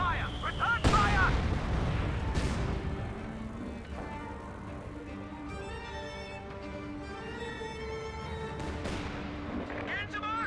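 Artillery and gunfire in the Company of Heroes 2 strategy game: a big blast early on, then scattered booms and shots under a commentator's excited voice and constant battlefield rumble.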